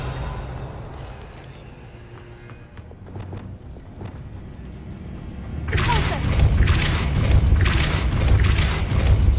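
A Bombarda spell explosion from Hogwarts Legacy builds after a quieter stretch into a loud booming blast with rumbling, crackling bursts that continue strongly to the end.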